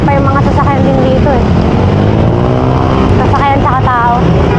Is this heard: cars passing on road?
yes